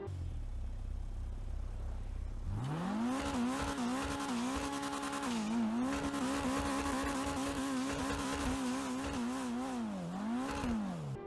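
A Vapid Flash GT sports car in GTA Online idles quietly, then revs up and holds a loud, steady roar, its pitch rising and dipping repeatedly as it accelerates and shifts.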